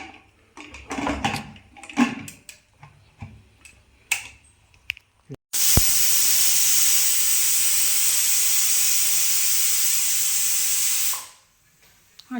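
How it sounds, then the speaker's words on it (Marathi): A pressure cooker cooking plain khichdi of rice with coriander lets out one long, loud, steady steam whistle lasting about six seconds, preceded by scattered clicks and clatter and ending abruptly. "अशा कुकरच्या 3 शिट्ट्या करून घ्यायच्या"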